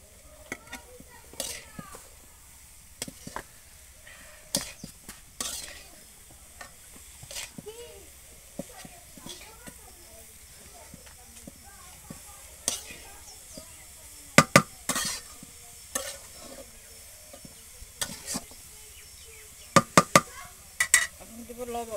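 Greens fried with plenty of onion and chili are stirred in a pan, giving sharp intermittent scraping clatters over a low steady sizzle, with bursts of louder stirring near the end.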